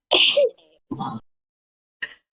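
A single sharp sneeze up close, followed by a short breathy exhale and a faint click, then quiet.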